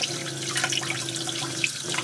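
Hot water runs steadily from a tap in a camper van, a continuous close splashing hiss with a faint low hum beneath it.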